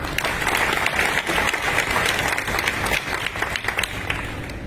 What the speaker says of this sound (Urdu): میں ریکویسٹ کرتا ہوں کہ پورا حال کے پی کے دوستوں کے لیے بھرپور طریقے سے تالیاں بجائیں